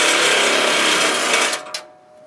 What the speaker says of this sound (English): And using an impact wrench.